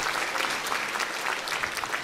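Audience applause at a concert evening, steady dense clapping from a crowd filling the hall throughout, with no voices on top.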